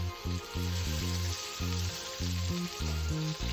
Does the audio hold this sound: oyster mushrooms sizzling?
yes